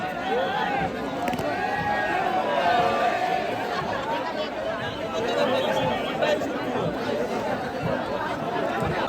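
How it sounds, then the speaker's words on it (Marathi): Thousands of devotees crowd the Ekvira Aai palkhi procession, their chatter forming a loud, continuous hubbub of overlapping voices with occasional nearby calls and laughter throughout. "बेकार गर्दी झाली ना. एवढं भाविक भक्त, लाखो भाविक भक्त आलेले ना."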